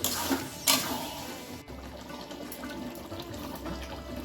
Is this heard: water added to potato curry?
yes